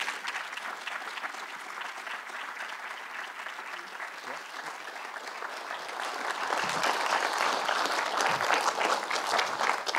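An audience at a civil rights symposium applauds continuously to welcome three panelists, the dense clapping swelling louder in the second half.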